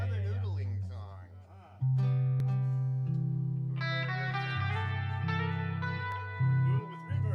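An electric guitar noodles through sustained, drifting notes drenched in heavy reverb, with slow bends and swelling chords.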